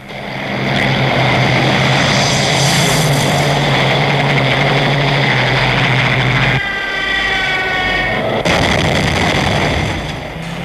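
Propeller engines of Hurricane and Spitfire fighter aircraft roar loud and steady throughout, a continuous droning rumble that shifts pitch partway through as planes pass.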